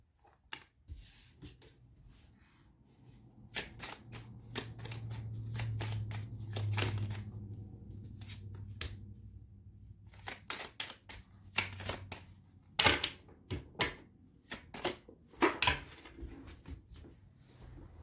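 Oracle cards being shuffled by hand, a quick run of crisp riffling slaps and flutters that starts sparse, grows denser and sharper toward the end, close and fairly quiet with a low hum beneath.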